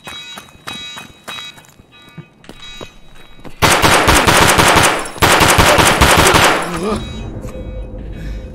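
Automatic gunfire from Escape From Tarkov: scattered single shots at first, then long, loud rapid bursts with a brief break between them, up close and dominating before tapering off.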